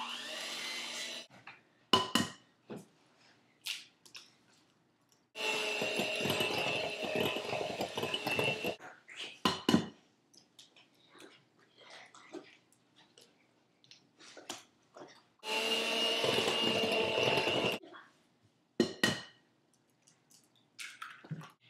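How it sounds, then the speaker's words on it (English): Eggs beaten one at a time into blueberry lime bundt cake batter: two sustained bursts of close mixing, each a few seconds long, separated by quieter clinks and handling noises. "you're going to beat in the egg after each egg that you put in"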